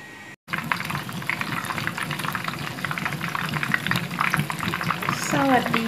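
Jackfruit fish fry in hot oil, giving a steady busy sizzle and crackle throughout, with a voice talking over it.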